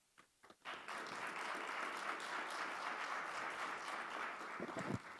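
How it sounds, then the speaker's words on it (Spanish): Warm audience applause at a conference session on intersectoral action, starting after a brief pause and then holding as a dense, even wash of many hands clapping in a hall, moderately distant. "Agradecemos a Juan con un caluroso aplauso"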